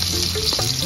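Anchovies and long beans stir-fry in a pan, giving a loud, close, continuous sizzle with brief scraping as the mixture is turned.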